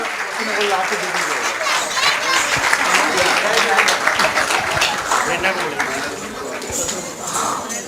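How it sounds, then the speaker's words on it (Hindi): Loud, sustained audience applause at a Mahesh Navmi cultural celebration, dense clapping filling the space for several seconds with voices mixed underneath. "जोरदार तालियां होनी चाहिए दोनों के लिए"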